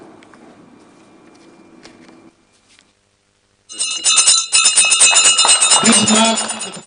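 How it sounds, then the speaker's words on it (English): After a quiet stretch of faint background murmur, a bright metal school bell at a secondary school clangs loudly and steadily for several seconds without pause, signalling the start of national examinations. "Joseph Lagu, rang the bell at Juba Day Secondary School to officially signal the start of the nationwide examinations."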